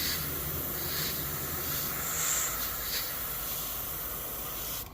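Steady airy hiss of a paint spray gun, constant and close, running the whole time before cutting off abruptly at the end.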